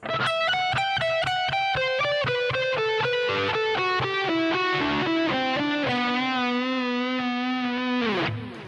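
Distorted electric guitar plays a descending phrase from a song's solo, a steady run of picked notes stepping downward and ending on a long sustained, vibrato-laden note, loud with no talking.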